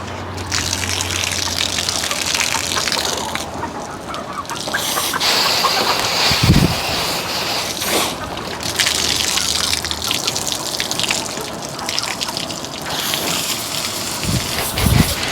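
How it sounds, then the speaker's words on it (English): A garden hose runs as a loud, steady gushing spray, rinsing items hung upside down outdoors. The water noise stays close and continuous, with a few splashing thumps and no talk over it. "take our hose, and I'm literally going to hang them upside down"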